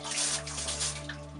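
A small hose sprays hot water to flush out an engine sump in a boat's engine room, a steady broadband hiss and splash over a constant low machinery hum, with no talk.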